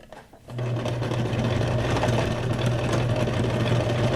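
A sewing machine stitches a fabric junk journal tag, its motor whirring into a steady, close, continuous hum after a short pause, with no talking over it.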